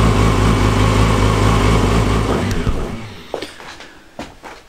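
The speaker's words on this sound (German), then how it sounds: "Motorrad habt ihr Kaltstart gemacht, ihr lasst im Hintergrund schön warm laufen" A used motorcycle idles after a cold start, a loud, close, steady rhythmic engine note that cuts out midway, leaving faint clicks and handling noises.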